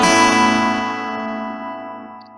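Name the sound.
guitar chord finger-picked as an ascending melody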